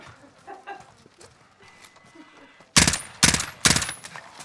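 Gunfire in Call of Duty: Warzone, with three loud, sharp shot bursts in quick succession after a quieter stretch of faint game noise.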